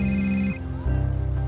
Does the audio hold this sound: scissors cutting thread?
no